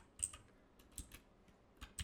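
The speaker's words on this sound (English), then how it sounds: "we're gonna type renew" Keystrokes on a computer keyboard typing the renew command, a quiet close series of soft clicks in an uneven rhythm with no talking.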